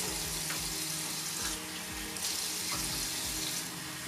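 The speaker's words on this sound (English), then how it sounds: "So I'm just going to rinse this." Water runs steadily from a tap into a sink during a face rinse in a skincare routine, a continuous close splashing hiss with brief irregular splashes over it.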